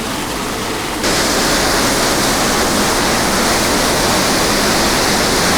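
Breadnut Valley Falls in Maggotty, Jamaica pours with a loud, continuous roar that swells suddenly after the first second and then holds steady and close, with no one speaking.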